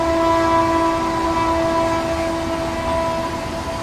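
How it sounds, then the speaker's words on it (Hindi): A steady, loud rumble of a moving Indian passenger train, the Patna Express, carries a sustained multi-tone horn drone held throughout, with no pauses or voices. "वो गुड्स ट्रेन बहुत तेज़ स्किप करी खुर्जा को"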